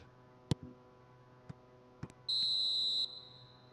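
In eFootball, a referee's half-time whistle sounds as one long shrill blast lasting under a second, preceded by a few scattered ticks over a low hum.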